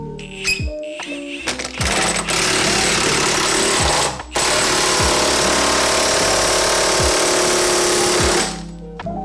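A VEVOR 1/2-inch air impact wrench trying to break a hammered bolt, firing loud, close rattling bursts, a few short hits then a long sustained hammering run with a brief gap.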